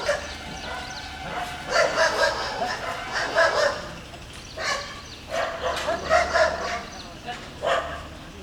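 Several dogs bark and yip in bursts, fairly close, with pauses between volleys and a voice mixed in.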